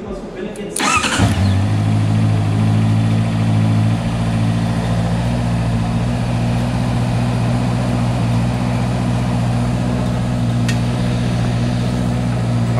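A Honda motorcycle fires up with a sharp starter burst and then settles into a steady, loud, humming idle that continues close by for the rest of the clip.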